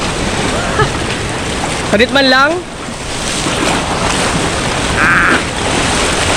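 Waves surging at Magpupungko lagoon, a continuous broad wash of surf and wind noise across the whole stretch, with brief Filipino speech and a couple of short tonal calls over it.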